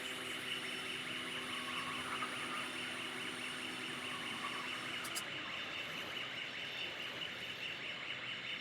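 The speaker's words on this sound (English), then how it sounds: "your alarm is always on. That's normally a backup alarm." Backup alarm on a LIFT HERO CPD30 6000 lb electric forklift, a steady repeating high tone that runs unbroken and fairly loud, with no talking.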